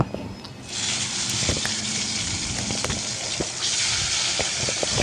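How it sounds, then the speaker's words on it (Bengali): Parshe fish fry in a generous amount of hot oil, giving a loud, close, continuous hissing sizzle that swells and bubbles with no voices over it. "মাছগুলো তেলে ছেড়ে দিলাম আর ভালো করে ভেজে নেব"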